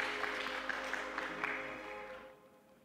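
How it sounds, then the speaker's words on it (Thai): A short burst of applause from a crowd, moderately loud, with a steady tonal hum underneath, fading out after about two seconds. "ขอเสียงปรบมือให้ด้วยนะคะ"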